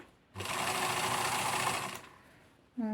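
A sewing machine stitches fabric channels in one continuous burst of about a second and a half, a close, loud, fast mechanical whir that stops abruptly.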